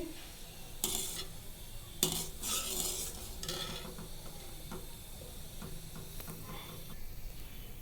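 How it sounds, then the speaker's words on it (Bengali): Cauliflower, potato and egg vegetable curry stirred in a pan, with repeated scraping clinks of a spatula against metal and a soft sizzle underneath, close and steady with a few sharper knocks. "এই যে আমার সবজির ঝোলটা কষিয়ে নিতেছি"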